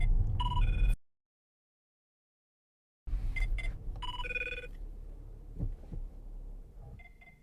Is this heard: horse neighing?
no